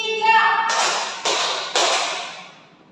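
A classroom of students claps in unison during a micro-teaching lesson, three sharp group claps at an even pace following a teacher's spoken cue, fairly close and loud.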